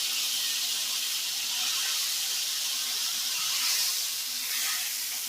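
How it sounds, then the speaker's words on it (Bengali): Food frying in hot oil, a loud, dense, continuous hiss and sizzle that swells slightly and then eases, steady throughout with no talk. "এটাকে ওরকম তেলে ভেজে নেব।"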